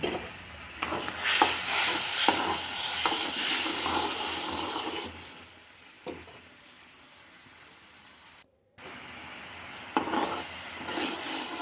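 Tamarind pulp for tamarind rice (pulihora) boiling and thickening in a pan, with a steady bubbling sizzle and occasional stirring scrapes, fading quieter midway with a brief dropout before picking up again.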